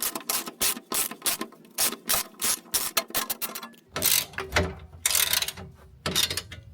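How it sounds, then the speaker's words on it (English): Rapid bursts of ratchet clicking from a wrench with a 10mm socket loosening fasteners on the outer engine shield of a 2022+ GR86/BRZ during an oil change, close and crisp, repeating in quick runs. "You're going to need a 10mm socket to remove this outer shield."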